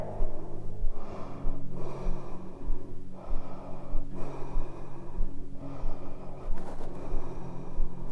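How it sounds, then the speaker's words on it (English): Three slow, deep breaths during a yoga forward fold with clasped hands, each a long airy inhale and exhale, close and clear over a low steady background hum. "3 big breaths there"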